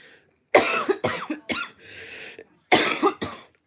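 Several harsh coughs close to the mic, a quick burst of three followed by a pause and two more, with a raspy breath between.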